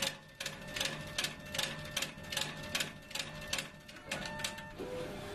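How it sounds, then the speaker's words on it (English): A DIGIPRINT printer's pump motor runs with a steady hum and a regular, mechanical ticking pulse repeating about twice a second, close and fairly quiet, with a faint tonal whine underneath. "both the pumps itself as the pump motor is working"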